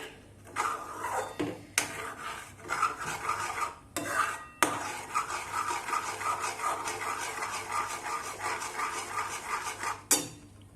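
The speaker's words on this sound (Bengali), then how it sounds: "দুধটা দিয়ে নাড়তে থাকবো" A utensil scrapes and clinks against a pot as thick milk with ghee is stirred, giving irregular scraping strokes with sharp metallic knocks over a faint low hum, fairly quiet and close, with no voices.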